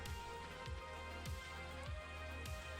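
Steady rain falls outside in a farming game world, a dense, continuous patter and hiss with soft drops landing throughout, no voices over it.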